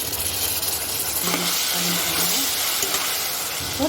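Onion with ginger garlic paste frying in oil for tomato rice, giving a steady close hiss and sizzle that runs throughout, with faint stirring under it and no talking.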